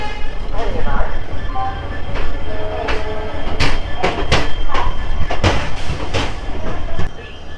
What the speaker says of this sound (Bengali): এখন আমাদের ট্রেন ছাড়লো গুয়াহাটি থেকে এনজেপির উদ্দেশ্যে